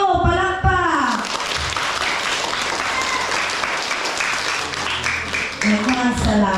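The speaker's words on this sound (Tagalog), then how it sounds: "Atong hatagan o masigabong palakpak ang atong guest speaker na si Teacher Georgie." Sustained applause from a church congregation at a UCCP church event in the Philippines, welcoming guest speaker Teacher Georgie; dense steady clapping fills the room, with a voice speaking over it at the start and again near the end.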